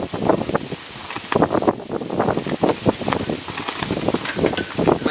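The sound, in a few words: strong wind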